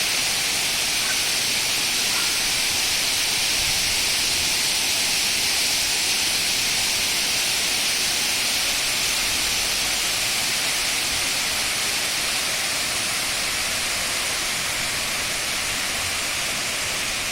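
A waterfall at Lúčky, Slovakia, gives a steady, loud rushing roar of falling water. The hiss stays even and unbroken throughout, with no voices.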